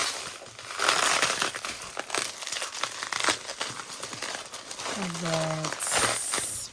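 A cargo package of stationery being opened by hand without a cutter, its plastic wrapping crinkling and crackling loudly and continuously up close, with a person talking throughout.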